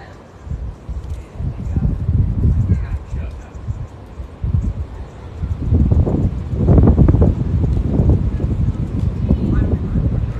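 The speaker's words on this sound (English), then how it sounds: "It's really windy." Heavy wind buffets the microphone in low rumbling gusts that swell and fade, loudest toward the end, with no clear speech.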